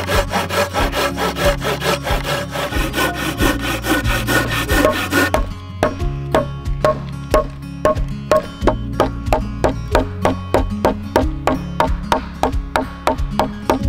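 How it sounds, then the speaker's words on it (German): A hand saw cutting through a wooden strut for a bushcraft chair, rhythmic rasping strokes close by, first dense and rapid, then settling into slower, evenly spaced back-and-forth pulls. "Jetzt sägen wir unten den Streben noch an"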